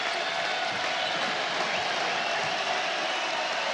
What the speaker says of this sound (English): Crowd on their feet with under 4 minutes left